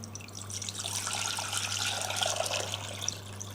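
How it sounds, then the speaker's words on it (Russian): Purified water pours steadily into a container for a marinade, a bright, splashing trickle with a constant low hum underneath, no talking. "Мы берем литр воды очищенной"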